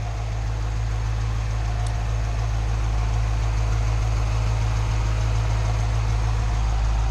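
A 2010 Dodge Challenger idling while it warms up, a steady low engine rumble with a constant hum and no change in rhythm, close and loud with no talk.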